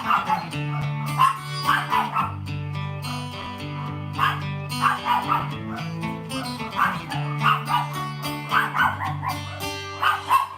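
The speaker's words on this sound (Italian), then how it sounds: "Sentite che bel sottofondo di cani, i cani fanno sempre da bel sottofondo." Dogs bark intermittently in the background while a woman sings the Sardinian song S'aneddu over sustained accompaniment. The barks come in short clusters under the music.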